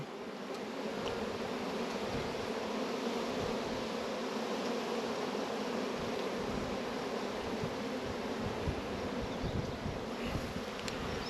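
Honey bees drone in a dense, continuous buzz around an open hive on a fine day, close and steady with no talking.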